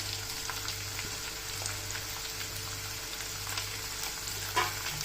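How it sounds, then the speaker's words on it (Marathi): Chillies fry in hot oil for murmura chivda, giving a steady close sizzle and crackle that holds at an even level throughout, with one brief sharper pop near the end. "आता आपण मिरची पण टाकू।"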